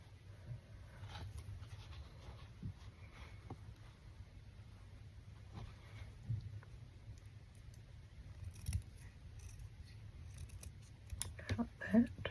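Scissors snipping thread or fabric during hand stitching, a few quiet close cuts among soft handling noises in a hushed room, with a little murmured talk.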